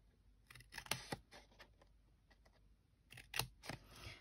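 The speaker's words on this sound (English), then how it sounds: "You're going to cut up both of these score lines up to the other score line here on both sides." Scissors cut paper along score lines with sharp, clicky snips, alone and close: a quick cluster near the start, scattered lighter snips, then a louder burst of cuts toward the end.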